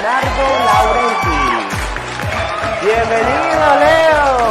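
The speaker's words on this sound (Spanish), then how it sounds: "Vamos a darle un fuerte aplauso a Leonardo Laurenti." A studio audience claps and cheers loudly for a guest arriving on a cooking show, sustained applause with whoops over a voice talking.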